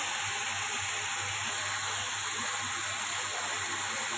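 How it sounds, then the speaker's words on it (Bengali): Potatoes fry in a pan with a steady, even hiss that stays close and constant throughout, with no voices over it. "দেখো, আমি আলু ভাজছি।"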